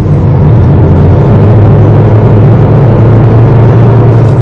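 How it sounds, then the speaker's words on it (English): Inside the cabin of a Honda Amaze, engine drone fills the space as a loud, steady low hum with a constant whir and no voices. "there's a fair amount of engine noise that comes into the cabin"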